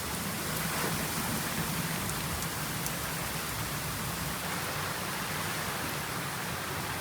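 Heavy rain from a squall pours steadily on a sailboat, a dense, even hiss of drops drumming on the deck and hatch, with no voices.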